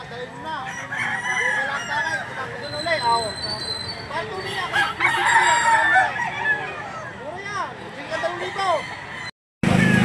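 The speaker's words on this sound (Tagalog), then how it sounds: "Napakaraming manok dito sa Lipa." Many roosters crow over and over at the Lipa livestock auction market in Batangas, a dense, loud chorus of overlapping crows and clucks that runs the whole time, with people talking among the birds.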